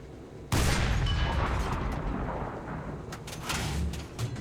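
A tank cannon fires in War Thunder, a sudden loud blast at the start that rolls into a long, heavy rumbling tail with scattered crackles, alone without talk.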